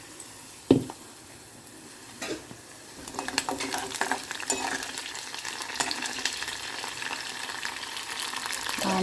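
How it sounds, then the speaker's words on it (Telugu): Onions fry in a pan for a soya chunk curry: a sharp clatter as they go in, then a rising, steady close sizzle with occasional stirring scrapes that keeps building to the end. "ఆనియన్స్ మొత్తం ఫ్రై అవ్వడం అవసరం లేదు"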